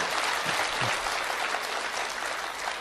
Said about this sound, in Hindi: तालियां आप लोग कमजोर बजा रहे हैं